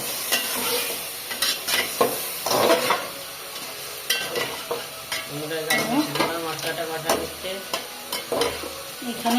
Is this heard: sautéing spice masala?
yes